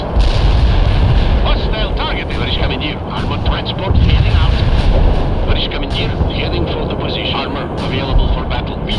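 Artillery and gunfire from the video game World in Conflict, a dense barrage of booming blasts and shots under continuous rumble, loud and close throughout, with aircraft-like drone and voices mixed in.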